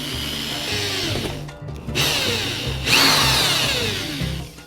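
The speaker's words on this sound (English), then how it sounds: "I'm going to use a drill bit that is 7/32, just because plastic is a little bit less precise than steel" A power drill with a 7/32 bit bores through plastic, its whine rising and falling in a few close, loud bursts with brief pauses between them.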